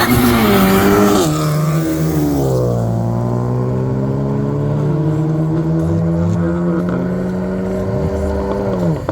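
A blue S3 and a GTR launch in a drag race, engines roaring loudly close by and rising in pitch through the gears, then receding as they pull away down the strip.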